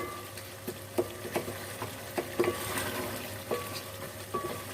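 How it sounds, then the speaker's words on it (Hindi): Spice masala frying in oil for aloo gosht, a soft continuous sizzle broken by light scraping stirs and occasional clinks of a spoon against the pot, steady and close. "मसाले को हम अच्छी तरह से भून लेते हैं ऑयल में।"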